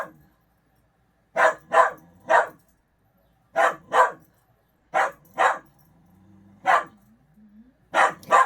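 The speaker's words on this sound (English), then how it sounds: "He's barking directly what he wants" A dog barks for attention in short paired bursts: two barks, a pause, another, then more pairs spaced a second or two apart, close and sharp in an otherwise quiet room, with a faint whine between them.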